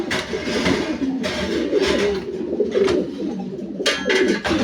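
Breeding pigeons coo close by in soft, repeated throaty calls, with a faint engine hum in the background.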